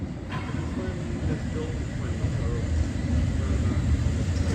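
Steady low rumble of a rail car over 100 years old rolling along the tracks, continuous and fairly loud throughout, with a faint voice now and then.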